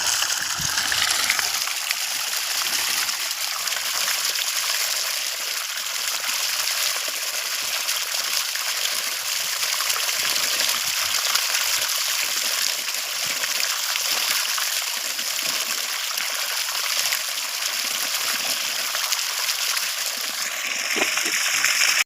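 Water pours steadily from a 1.5-inch solar pump pipe with a continuous rushing, splashing gush, close by and unbroken throughout.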